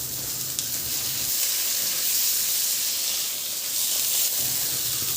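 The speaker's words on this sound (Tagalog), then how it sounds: "Sa disin na kawali, itinira ko yung kunting bawang at igisa ko na rin yung sibuyas." Garlic and onion sauté in a pan, giving a steady, close, bright sizzle and hiss that runs unbroken throughout, with no voices over it.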